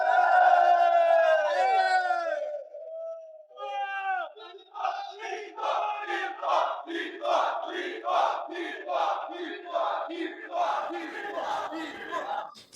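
A crowd at a political rally for former president Jair Bolsonaro chants and cheers in rhythmic, unified shouts after a few drawn-out cries. The chanting is loud and sustained and fades toward the end.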